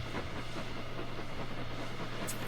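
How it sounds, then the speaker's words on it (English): A train passes in The Sims, a steady low rumble and rolling clatter holding evenly throughout, with a brief high hiss or whistle right at the end. "Aha, look, there's the train."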